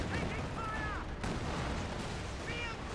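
A Katyusha rocket barrage in Company of Heroes 2 crashes down as a dense, continuous roar of blasts and rumble, with thin whistling rocket whines rising above it near the start and end.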